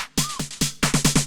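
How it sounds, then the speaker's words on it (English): A garage-style snare break drenched in reverb for a speed garage track, with sharp bright hits in a syncopated pattern that speeds into a quick flurry of close, loud snare strikes, each followed by a short washy tail. "all I've got is a garage snare and a nice bit of reverb on it"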